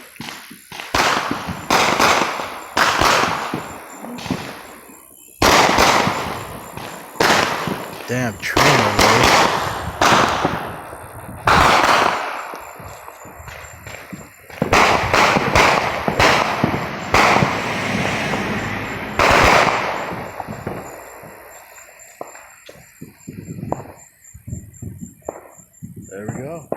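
Fourth of July fireworks and firecrackers crack and pop in rapid, irregular bursts from many directions, some close and loud and others farther off, while people talk now and then.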